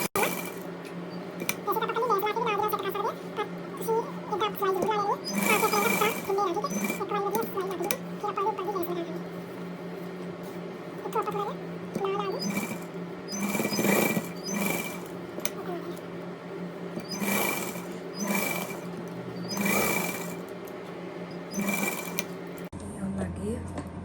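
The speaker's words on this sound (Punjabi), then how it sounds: "ਇਸ ਤਰ੍ਹਾਂ ਆਪਾਂ ਇਹਨੂੰ ਸਿਲਾਈ ਲਾਉਂਦੇ" A sewing machine stitches lace onto a salwar neckline in bursts of whirring, rattling runs, stopping and starting, while a person talks between and over the stitching.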